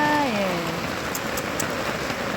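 Rain falls outdoors during the 2025 Naadam festival in Mongolia, a steady, even hiss over a short stretch, with a brief gliding tonal sound at the very start.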